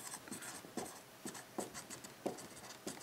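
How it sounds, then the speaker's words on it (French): Writing by hand during a maths notation lesson makes quiet, close scratching strokes in short uneven bursts, with faint room noise between them and no speech. "je vais écrire"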